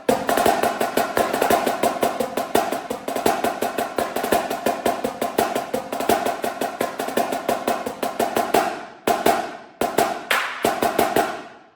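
A snare drumline plays the bottom line part, a rapid, dense stream of crisp strokes with steady rhythmic accents, ending in a few separate hits.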